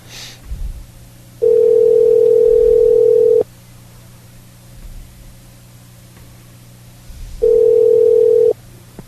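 A steady telephone dial tone sounds twice in loud, sustained bursts of about two seconds and one second, separated by quiet line hiss with faint low hum, before a radio show's test call.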